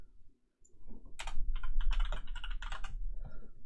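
Computer keyboard arrow keys are pressed in a quick cluster of crisp taps and clicks, close and fairly loud over a low background hum with no talking.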